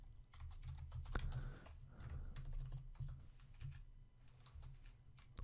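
Quiet, quick typing of web page script code on a computer keyboard: a steady patter of close key clicks over a low hum with no voices.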